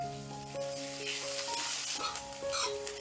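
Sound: frying garlic, onion and green chilli

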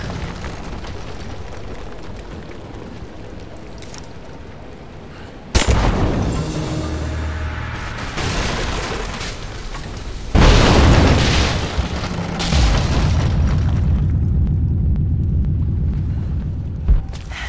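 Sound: Greek fire explosion in video game Rise of the Tomb Raider

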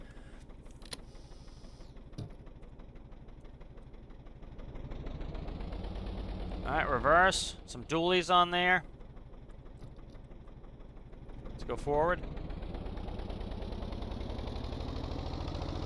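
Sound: dump truck engine driving in video game Stormworks

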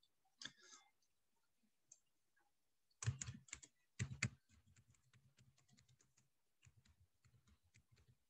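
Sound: typing on a computer keyboard

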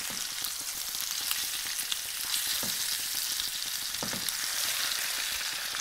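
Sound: sea bass fillets pan-searing, turned in the pan

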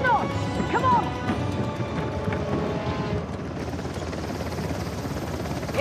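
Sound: helicopter in the Uncharted: The Lost Legacy video game

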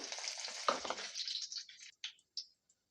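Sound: mustard seeds, cumin and dried chilies tempering in hot oil

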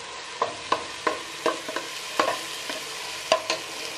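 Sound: sautéing chicken khichuri mixture in a pan

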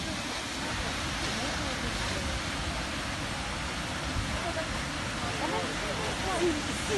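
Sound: Karpuzkaldıran waterfall in Antalya

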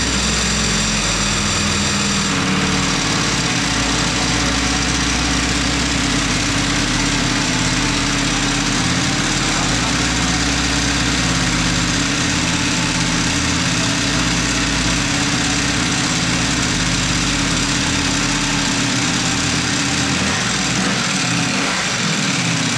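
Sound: motorcycle engine idling after being started

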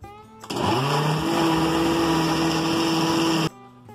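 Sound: blender blending oat drink mixture

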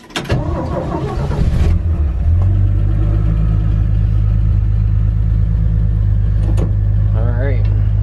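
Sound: 1963 Chevy C10 pickup truck driving off

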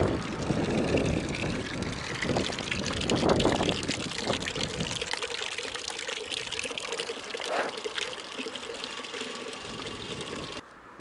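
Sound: water pouring into a bucket for chickens

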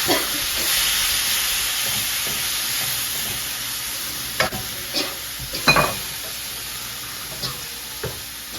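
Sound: stir-frying Thai holy basil (pad kaphrao)

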